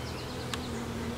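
Honey bees drone around an open, newly made nuc hive during an inspection, a soft steady buzz with a few individual bees whining past close by, and no talk.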